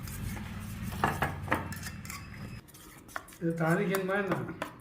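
A metal spoon clinks and scrapes against a bowl in quick stirring strokes, close up, mixing water into roasted gram chutney powder, with a brief voice-like tone near the end.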